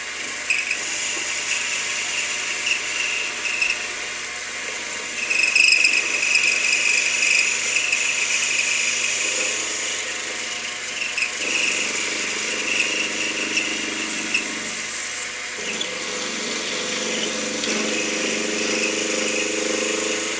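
A metal lathe with an electronic leadscrew takes a boring cut, giving a steady machine hum with a thin, high-pitched chatter whine above it. The whine rises and eases over a long continuous run.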